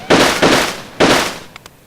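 Balloons popping in the video game Roller Coaster Tycoon 3: three loud sharp bursts in quick succession, each with a short fading tail, followed by two faint clicks.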